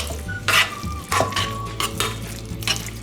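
Guacamole mixed in a bowl after a pinch of pepper: several close, brisk stirring strokes with utensil scrapes and clinks against the dish, each stroke a short burst.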